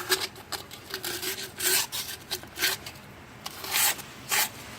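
Soft sandpaper rubs over an engine part while preparing an 09 Mitsubishi Lancer for a turbo, giving close, repeated raspy scrubbing strokes in an uneven rhythm, some louder than others.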